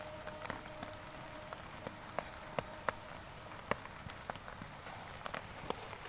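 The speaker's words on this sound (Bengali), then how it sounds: "দেখেন কি পরিমাণে জোরে পানি যাচ্ছে।" Steady heavy rain patters on surfaces with scattered sharper drops and splashes, a continuous wash of water noise with no talking.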